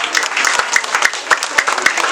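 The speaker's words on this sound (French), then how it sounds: "je vous prie de bien applaudir M. Tin et M. Bella aussi" Steady applause from an audience at a school's year-end celebration, dense clapping throughout with individual sharp claps standing out nearby and a faint murmur of voices beneath.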